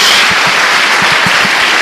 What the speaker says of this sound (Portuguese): Dê mais uma salva de palmas a Jesus